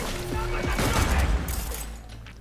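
Rapid gunfire from a weapon in Cyberpunk 2077: Phantom Liberty bursts out as a dense fusillade of shots, loud and close, fading toward the end.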